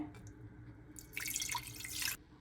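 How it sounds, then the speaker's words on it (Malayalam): Water splashes into a pressure cooker in a kitchen during sweet corn chicken soup preparation, a quiet trickle swelling into a steady pour for about a second before stopping. "ഒരു കുക്കർ എടുത്ത് വെച്ചിട്ടുണ്ടേ അതിലേക്ക് മുക്കാൽ ലിറ്റർ വെള്ളം ഒഴിച്ചു കൊടുക്കണേ"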